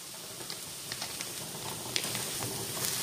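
Onion and carrots fry in a pan with a steady soft sizzle and faint crackles, scattered small pops and stirring noises throughout.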